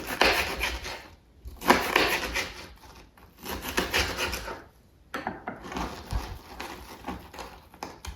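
A knife repeatedly chopping meatless chicken into cubes on a board, producing bursts of close scraping and rasping cuts with short pauses between them, no talk over it.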